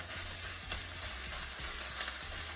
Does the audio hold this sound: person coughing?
no